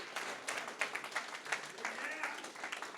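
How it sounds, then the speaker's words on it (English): Applause from a crowd, steady clapping that rises and falls, with voices talking underneath. "let's give Yaf another round of applause for the food."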